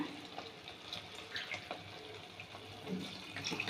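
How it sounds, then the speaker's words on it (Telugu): Water is poured into a pot of rice, measured by the glass, while palak rice is being made, a soft, faint trickling splash heard up close with no speech. "ఐదున్నర గ్లాస్ పోస్తానండి వాటర్"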